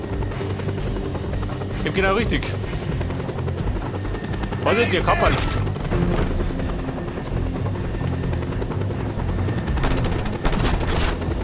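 Helicopter rotor drone and bursts of gunfire in the open-world action game Just Cause 2, a steady loud engine bed with scattered shots, while someone talks over it in German.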